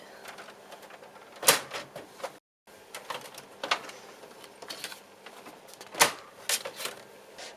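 A home printer scans a drawing with a steady mechanical whir, broken by sharp clacks and a short silent pause midway, heard alone at moderate level.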